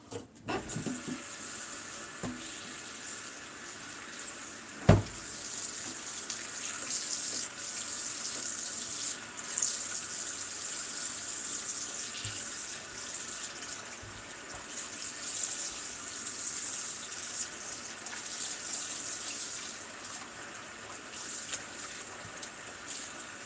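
A kitchen tap runs steadily while homemade butter, made from heavy whipping cream, is rinsed under it. A continuous splashing hiss lasts throughout, with a sharp clunk near the start.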